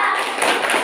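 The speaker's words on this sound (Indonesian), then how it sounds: "Tepuk jempol." Children in a classroom clapping with their thumbs, a quick burst of soft, overlapping pats lasting under a second.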